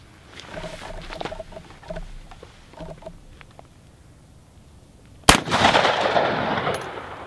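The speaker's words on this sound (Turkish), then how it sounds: "Atış var." A smoothbore shotgun fires Sterling ammunition at bulletproof fabric: one sharp, loud blast with a rolling, echoing tail, preceded by a stretch of faint clicks and handling noise.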